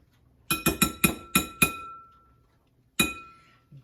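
A small metal spoon clinks sharply against a container while measuring ingredients for keto biscuits made with lupin flour, six quick bright taps in a loose rhythm, a pause, then one final clink.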